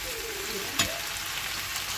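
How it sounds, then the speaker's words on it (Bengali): Potatoes frying in a pan give a steady, close sizzle that runs alone throughout, with one brief clatter near the middle. "আলুগুলো একটু ভাজা ভাজা হয়ে এসেছে"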